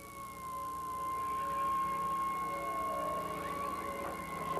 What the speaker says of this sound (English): An ambulance and fire truck pass by the burning shop, unwilling to stop because of the danger.